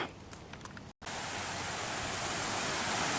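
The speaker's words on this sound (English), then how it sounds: "So here's Macleay Creek." Macleay Creek in Lower Macleay Park, Portland, Oregon, rushes as a steady, loud wash of flowing water that fills the clip after a brief cut near the start.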